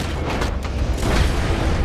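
A gunshot in Red Dead Redemption 2, a dense booming blast with a rumbling tail that fills the short moment at close range.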